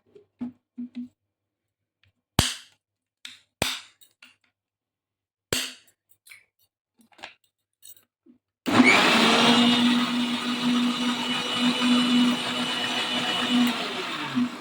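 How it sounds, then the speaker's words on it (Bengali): Mixer grinder blending butter with water to make ghee at home: scattered clicks and knocks of handling first, then the motor roars on loudly and keeps spinning steadily for several seconds. "এবার জলটার মধ্যে আমি আবার জলটা দেওয়ার পরে আবার মিক্সিটা চালিয়ে এটাকে ভালো করে ঘুরিয়ে নেব।"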